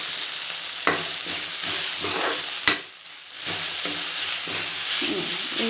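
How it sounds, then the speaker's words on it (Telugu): A spoonful of ginger garlic paste fries in a pan for an eggplant and drumstick curry, a steady close sizzle with a few stirring scrapes and one sharp clatter, then a brief lull before the sizzling returns. "ఒక అల్లం వెల్లుల్లి పేస్ట్ 1 స్పూన్ వేసానమ్మా. చూడండి, ఇలా వేగింది కదా."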